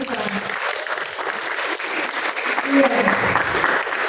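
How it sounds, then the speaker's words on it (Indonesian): Applause fills a room at an Indonesian vocational school's seventh-month pregnancy ceremony, cheering the students, a steady crowd clapping throughout with a voice speaking briefly over it. "Tepuk tangan untuk anak-anak kita."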